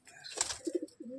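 Domestic pigeons cooing in short soft bursts, close by, amid handling rustle as they are shifted by hand into a separate large cage at home.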